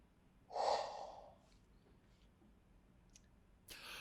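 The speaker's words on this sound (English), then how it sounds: "I'm yawning too." A person yawns once, a brief breathy exhale near the microphone, followed by quiet room tone and a faint click.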